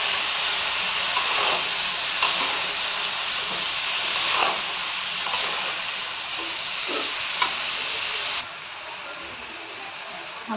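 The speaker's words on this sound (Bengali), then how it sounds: "এবার কেটে রাখা লাউগুলো দিয়ে দেবো। এবার ভালো করে কষবো।" Chopped tender bottle gourd is sautéed with spices and green chilli in a pan, giving a steady close sizzle and hiss with occasional stirring scrapes.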